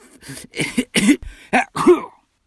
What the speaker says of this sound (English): The strange noises that the chief soldier was making were, in fact, coughs.